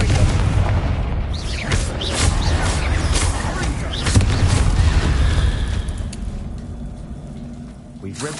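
Confringo fire blast spell in Hogwarts Legacy, a series of booming, crackling explosive hits rolling over several seconds amid dense game-battle noise, loud and close, with a voice talking in the clip.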